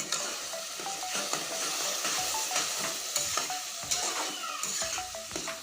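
Chicken masala stir-fried in a pan after a splash of water, giving a loud, steady sizzle with frequent scraping stirs and occasional clinks of a spoon against the pan.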